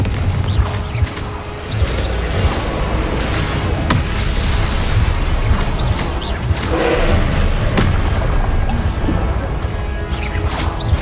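Explosive bursts from the Confringo fire spell in Hogwarts Legacy, dense crashing blasts and thuds over a loud, continuous game soundscape with no talk.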